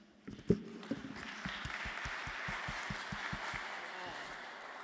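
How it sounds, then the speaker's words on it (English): Audience applause for panelists at a governance session comes in faintly, starting with a few scattered claps and settling into a steady, even patter of hands that lasts several seconds. "Another strong round of applause for this 10th year innovation."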